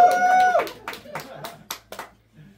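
A few scattered claps from a seminar audience at The Machine House Social Club in Oslo ring out in short bursts after a brief tone, sparse and uneven rather than a full crowd's applause.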